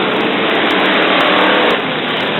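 A pack of Brisca F1 stock cars roars past at a 1981 qualifying meeting in Coventry, with loud, continuous engine noise that is dense and slightly distorted and eases off a little near the end.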